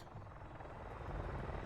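Helicopter in the video game Shadow of the Tomb Raider, a steady rotor drone with low beating thumps that holds at a fairly constant, moderately loud level throughout.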